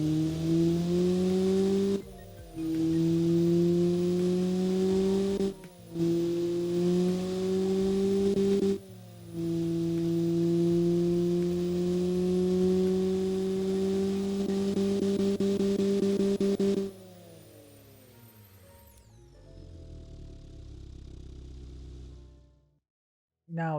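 Mitsubishi Starion 2.6-litre intercooled turbocharged 4G54 four-cylinder engine in the Automation car game, revving loudly in repeated climbs broken by brief gear-change dips, then winding down and cutting out near the end.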